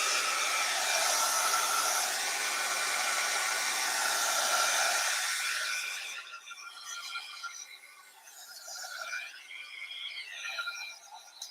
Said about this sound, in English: I'm gonna use the heat gun, y'all.